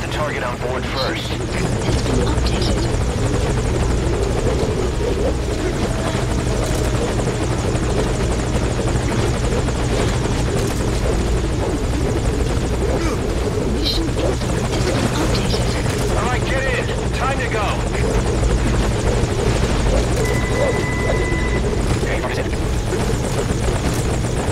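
A military helicopter idles at a landing zone in Metal Gear Solid Ground Zeroes, its rotors thrumming loudly and steadily throughout, with occasional game sounds and radio voices over the top.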